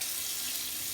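A kitchen tap runs steadily, a constant hiss of water close by with no voices.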